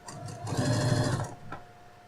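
A sewing machine topstitches a denim phone case in one short, close run of rapid stitching lasting under a second, then stops and leaves quiet.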